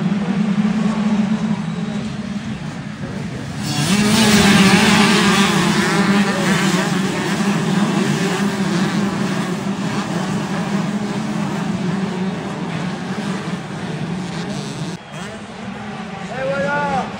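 Race vehicles accelerate off the start line, a loud sustained droning engine roar that swells after a few seconds and holds steady, with a brief dip near the end and voices talking throughout.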